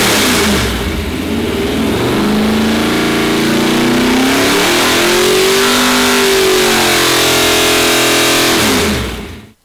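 A 1966 Beaumont's V8, a 400 bored 60 over and fitted with a 3-inch 283 crank, revs hard close by, the pitch climbing and falling in steady swells before cutting off abruptly at the end.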